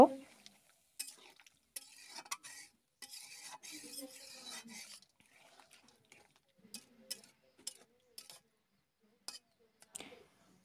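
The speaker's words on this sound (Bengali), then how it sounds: "দিয়ে আবারও খুব ভালোভাবে মাংসটা নেড়েচেড়ে কষিয়ে নিব" A spoon stirs chicken and milk for biryani in a pot, giving short, intermittent scraping strokes with pauses between them, close and fairly quiet, with faint speech in between.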